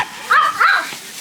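A startled dog in a busy Divisoria shopping area gives two short, close yips or barks in quick succession, loud and alone, fading into quiet market background.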